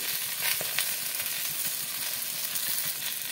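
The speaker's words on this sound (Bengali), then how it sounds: "সবজিগুলোকে আমি 5 থেকে 7 মিনিটের মতন ভাজবো।" Vegetables fry in a pan with cumin and coriander spices, a steady close crackling sizzle with occasional sharper pops and stirring scrapes, no voices.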